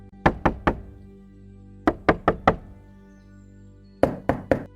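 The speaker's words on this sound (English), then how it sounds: "Then the tapping noise started." Knuckle taps on car windows as a ghost story sound effect, three sets of three or four sharp close knocks with brief ringing tails, separated by quiet pauses.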